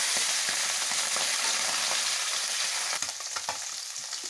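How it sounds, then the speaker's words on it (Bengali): Tangra fish rubbed with salt and turmeric fry in hot mustard oil, giving a dense, continuous close sizzle that crackles and pops, with a few sharper spits near the end. "তেল গরম হয়ে গেছে, মাছগুলো ভেজে তুলে নিলাম।"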